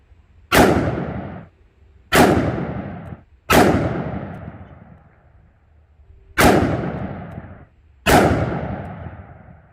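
Five heavy booming shots from a Smith & Wesson Model 69 .44 Magnum revolver with a 2.75-inch barrel, fired double action with Hornady ammunition at a range, evenly spaced with each blast trailing off.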